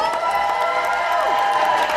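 Crowd applause and cheering at a live show, a dense wash of voices and clapping layered with tonal whistles or sweeping sounds, loud and continuous throughout.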